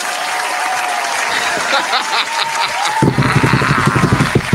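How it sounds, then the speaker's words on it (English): A lone audience member at a stand-up comedy show claps on her own, a quick run of sharp, close handclaps rising out of a murmuring room in the last seconds. "She clapped that shit on her own."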